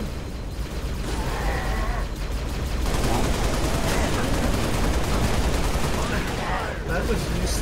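Dense Halo gunfire rattles almost without pause in close, heavy bursts, with a player's voice talking over the shooting.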